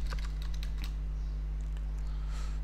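Keys clatter on a computer keyboard during a router login, in a short burst of quick close taps that thin out into a few spaced presses over a steady low electrical hum.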